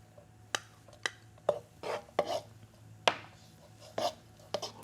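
Garlic stirred in coconut oil in a pan, with a faint low simmer beneath a series of separate scraping and tapping strokes of a utensil, spaced irregularly about every half second.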